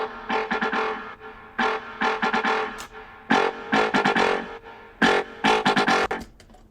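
A MIDI-driven brostep synth lead plays a choppy melody in short rhythmic bursts, first dry and then with an effect switched on, loud and alone with no talking.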